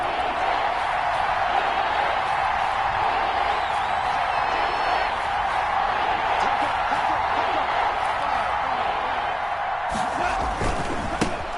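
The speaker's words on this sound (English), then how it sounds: "this crowd's going to get even louder" A stadium crowd in a PS4 American football video game roars loud and steady without pause, with a few sharper bursts of noise near the end.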